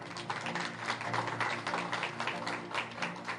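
A crowd claps steadily and densely in sustained applause as the NCP supremo announces that his resignation is withdrawn. The clapping stays even and fairly loud throughout.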